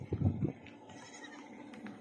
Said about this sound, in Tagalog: Saan itong mga kambing?